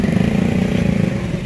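A motorcycle engine runs on a hot, windy day, a loud close mid-pitched putter with a fast regular pulse and no voices.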